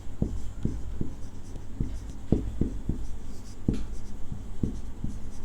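A pen or chalk writes the word "electrolysis" on a board or page, a run of sharp, close taps and short scratches in an uneven rhythm, about a dozen strokes over five seconds with no voices.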